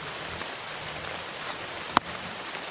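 Steady rain falls as a soft, even hiss, with one sharp click partway through and no voices.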